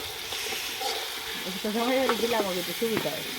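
Green banana pieces sizzle and crackle as they fry in a pan, with occasional stirring and voices speaking over the cooking.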